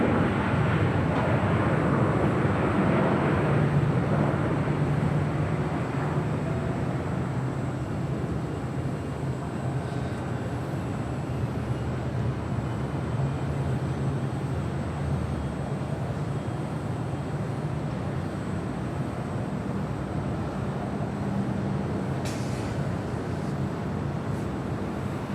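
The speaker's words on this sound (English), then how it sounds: "Flight 11 coming in from Seoul, the 747-8 Intercontinental, just a minute out" A Korean Air Boeing 747-8 Intercontinental arriving at Los Angeles International Airport gives a broad, steady jet roar that is loudest at the start and slowly fades. Wind noise runs underneath and there is no talk.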